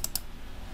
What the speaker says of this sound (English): Then I can just start typing some values here